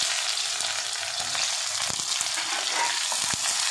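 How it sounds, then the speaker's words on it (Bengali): Whole garlic cloves and chopped onion hit hot oil with black cumin seeds, a loud steady sizzle with a few soft clacks of a spoon against the pan, no voices. "এর মধ্যে আমি দিয়ে দেবো গোটা রসুনগুলো, এর মধ্যে দিয়ে দেবো পেঁয়াজ কুচি।"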